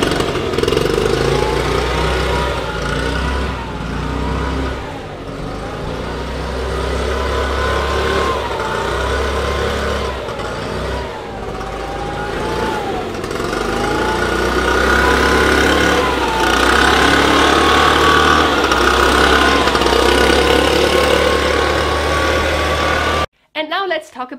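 Leaf blower engine heard through an open door, a loud steady drone with rising and falling revs running nearly the whole time before cutting off abruptly at the end.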